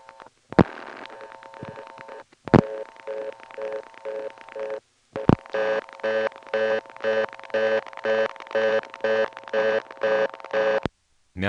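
A 1970s step-by-step telephone exchange in Ramseur, North Carolina switches as digits are dialed: loud mechanical clacks, then bursts of rapid rhythmic stepping over a steady hum, with no voices.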